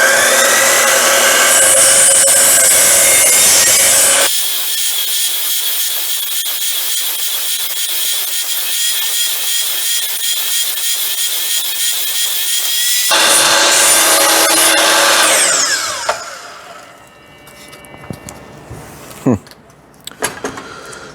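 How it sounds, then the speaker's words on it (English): Power saw cutting material held against the fence during a garage door rebuild, a loud sustained whine running for several seconds before winding down, with a voice heard briefly. "Then I put my material up against the fence, and then I can cut."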